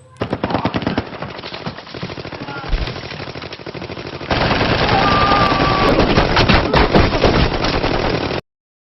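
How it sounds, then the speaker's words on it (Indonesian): Sustained automatic gunfire in a film shootout with police, rapid loud bursts throughout, growing denser and heavier in the second half, with an occasional high ricochet-like whine. "Dan di sanalah adu tembak terjadi, di mana 3 anggota polisi tewas di sana."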